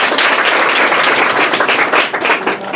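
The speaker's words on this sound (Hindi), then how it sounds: "ताली ताली इनके लिए," Loud, sustained applause from a classroom of private-school students in Bihar, clapping steadily for a classmate's correct quiz answer, a dense continuous patter with no talk over it.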